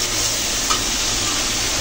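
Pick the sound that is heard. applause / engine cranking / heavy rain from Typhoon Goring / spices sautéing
spices sautéing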